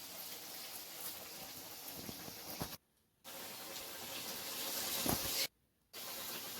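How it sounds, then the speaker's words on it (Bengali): Cabbage Manchurian pakoras, round balls of cabbage batter, frying in hot oil at home with a steady soft sizzle and hiss, broken by two brief silences. "এরকম গোল গোল করে সব কটা পকোড়া আমি ভেজে নিচ্ছি।"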